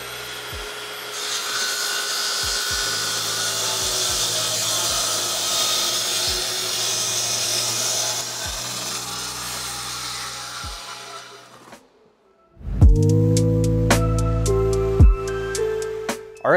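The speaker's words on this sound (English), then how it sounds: "let's do some cutting" A Richlite cladding panel is cut with a saw in a long steady pass lasting about twelve seconds. A brief pause follows, then a second tonal, machine-like passage.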